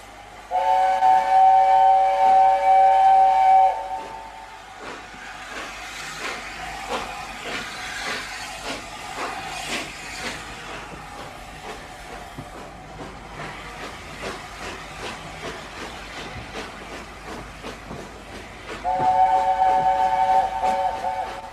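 A steam train whistle shrieks, then the locomotive chugs and hisses steadily along, with a second whistle blast near the end.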